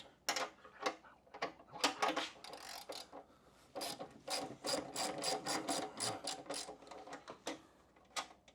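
A 9/16 wrench working loose a bolt on a Harley-Davidson M8 Softail Lowrider ST, giving a string of close, sharp ratcheting clicks in quick irregular bursts, with no talking.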